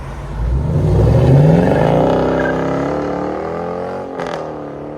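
Loud, close engine revving from a 2023 Dodge Challenger 5.7L HEMI V8 fitted with Flowmaster Super 10 exhaust and carbon fiber tips, rising sharply in the first second and a half, then settling into a sustained drone with a brief burst near the end.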